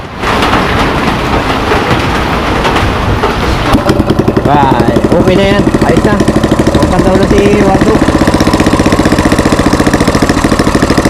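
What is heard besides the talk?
old engine running after flood repair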